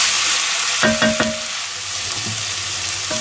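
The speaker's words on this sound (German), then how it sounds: "Und alles schön anbraten, bevor wir die Fleischknochen dazu geben." Carrots and other vegetables sear in a hot pan, giving a loud, close sizzle broken by a few sharp clatters of stirring, with no talking.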